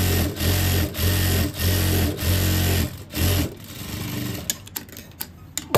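A sewing machine stitches along the edge of a shirt collar in several short, rapid, rhythmic runs close by, then falls quiet apart from a few handling clicks.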